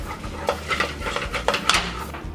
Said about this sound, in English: Then you're gonna stir this up until it becomes a ball of dough again